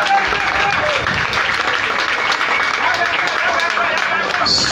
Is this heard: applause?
yes